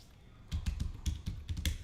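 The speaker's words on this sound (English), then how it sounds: "Nice if I could type my own damn password." Quick, uneven tapping of a password on a computer keyboard at close range, the clicks clustered in short bursts.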